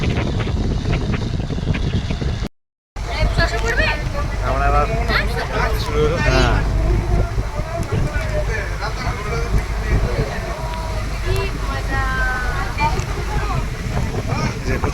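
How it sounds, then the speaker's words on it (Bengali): Strong wind gusting by a river at a ferry launch in the Sundarbans, a steady close roar buffeting the microphone throughout, with people talking over it. "কি হাওয়া দিচ্ছে।"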